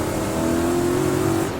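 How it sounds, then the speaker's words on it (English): A BMW E28 street drift car with a V8 engine holds a loud, steady high rev with a sustained engine tone, then eases off right at the end. "RPMs are getting up there, you're ready to shift, you shift, and then right as you shift, you backfire."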